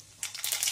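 Mustard seeds with cumin hitting hot oil in a pan, a brief burst of sharp sizzling crackles and pops that quickly build in density, close and alone.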